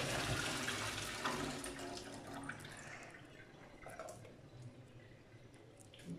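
Cold water pours steadily into a pot for candied oranges, a close, continuous rushing splash that gradually quietens over several seconds.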